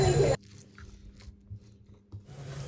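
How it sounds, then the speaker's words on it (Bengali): Someone eats a home-cooked curry made by her husband, with soft close-up chewing and faint crunching bites after a brief loud burst at the start, no talking. "এখন আমিও খেয়ে দেখি কেমন হয়েছে।"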